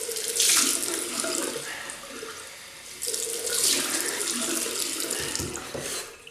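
Tap water runs into a sink as a face is wetted before a shave, a soft steady splashing close by that swells, eases off briefly, then picks up again, with no voices.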